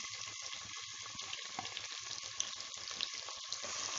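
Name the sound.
onions frying in hot oil with cinnamon and shahjeera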